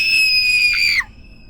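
A woman's high, sustained scream, loud and piercing, cut off abruptly after about a second, leaving a faint lingering tone over a dark horror-story ambience.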